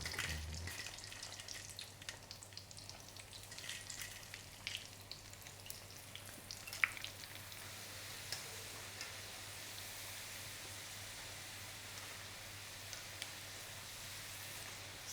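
A second batch of french fries crackles in hot oil, a steady, faint sizzle with scattered small pops running unbroken and alone throughout.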